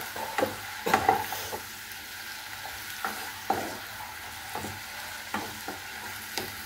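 Tomato fry cooking in a covered pan: a soft, steady sizzle runs throughout, broken by several sharp clacks and scrapes of stirring and utensil knocks.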